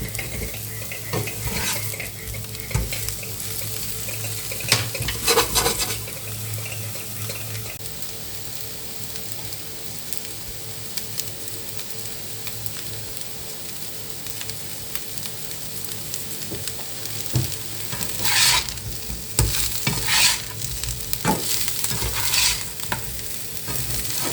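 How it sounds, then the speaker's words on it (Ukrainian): Cabbage fries in a pan with a steady close sizzle, broken by repeated scraping and clinking of a utensil stirring against the pan. No one speaks. "Обсмажую вже капусточку."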